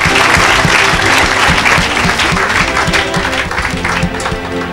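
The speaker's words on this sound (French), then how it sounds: "Acclame pour Jésus." A church congregation applauds and cheers for Jesus, loud, continuous rapid clapping from a large crowd with voices mixed in, tapering slightly near the end.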